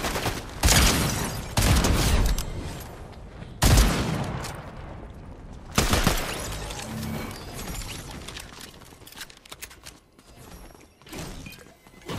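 Gunshots in Fortnite ring out in several sharp, loud bursts separated by quieter stretches, with rapid fire clusters and a few isolated cracks near the end.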